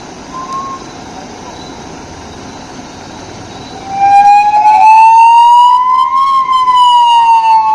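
An ambulance siren on a highway, a loud wailing tone rising and falling that swells up close after a quieter stretch of background engine noise.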